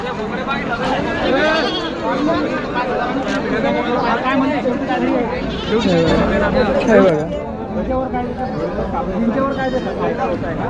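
Several local-breed goats bleat repeatedly, close by at a goat market in Khamgaon, mixed with people chatting over them throughout.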